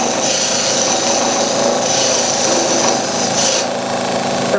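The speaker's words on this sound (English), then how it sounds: "That's a slightly rounded skew chisel. Good for this sort of job on a harder timber." A wood lathe turns hard timber while a slightly rounded skew chisel cuts, giving a steady, loud, continuous scraping hiss with a motor hum underneath and no talking.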